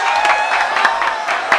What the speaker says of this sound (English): So let's give it a round of applause.